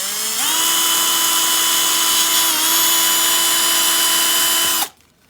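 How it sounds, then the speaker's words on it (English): Power drill boring a hole through the top of a Stratocaster guitar body, a loud steady high whine that dips slightly in pitch under load and then cuts off abruptly near the end. Close, with no talking. "So that means I've got to drill them out."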